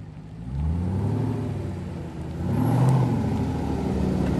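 A supercharged Jeep Trackhawk engine accelerates as it is given a little gas, a low rumbling whir that swells, eases briefly, then rises again and holds steady.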